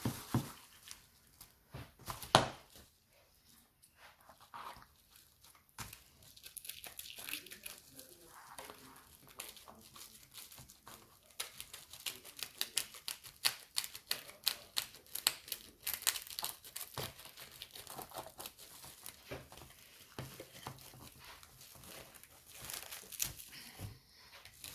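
Close crinkling and crumpling as stretch film and tracing paper are handled and torn, with irregular crackles and sharp rips going on for the whole stretch at a low, intimate level.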